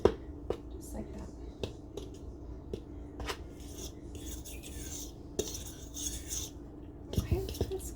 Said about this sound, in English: I just use a fork to kind of mix it in